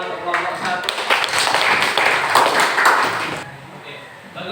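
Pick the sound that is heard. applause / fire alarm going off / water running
applause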